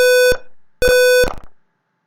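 Two loud, piercing electronic alarm beeps from a DS1307 real-time clock circuit, the second cut off abruptly with a few clicks as a button switches it off, then silence.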